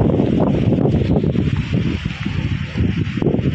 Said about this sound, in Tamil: செம்ம காத்து